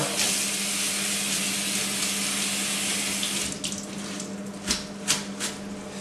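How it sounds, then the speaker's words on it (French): Cold tap water runs steadily over flat-leaf parsley, a close, continuous gush that turns into a few splashy, uneven bursts near the end as the leaves are rinsed. "D'abord tu le rinces. Alors à l'eau froide."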